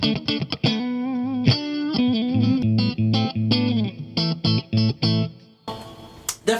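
An electric guitar plays distorted, effects-laden chords and riffs through a BOSS WAZA amp head and 2x12 cabinet, with sharp stops and restarts, ending in a brief noisy burst.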